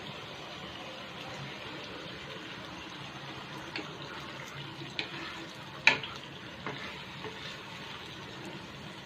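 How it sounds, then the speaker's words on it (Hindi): Marinated chicken for biryani goes into a hot pan and fries with a faint, steady sizzle, with a few soft clinks and scrapes of stirring in the middle, quiet and close. "चलिए चिकन डालते हैं।"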